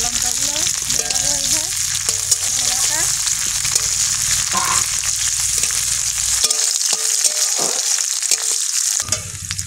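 Onions and green chillies frying in a pan for a red leafy greens curry, a loud steady sizzle with occasional stirring and scraping sounds throughout.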